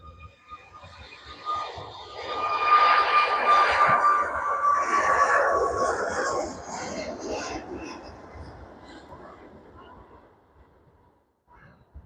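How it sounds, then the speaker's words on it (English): A departing Boeing 737 airliner's engine roar at Manchester Airport rises and sweeps past, a broad rushing drone with a thin whine that gradually fades into the distance. "there goes the TUI off to Gran Canaria this afternoon on the 737"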